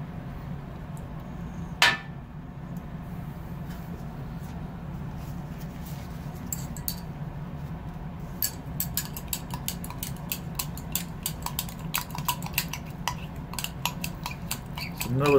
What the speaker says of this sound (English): So we're supposed to stir this vigorously.